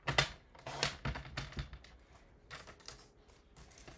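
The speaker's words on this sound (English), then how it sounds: "I'm going to just cut a 1/2 inch strip" Scissors snip through a half-inch strip of corrugated crimped paper for a handmade card, giving a quick run of crisp, close clicks and crunches that gradually thin out.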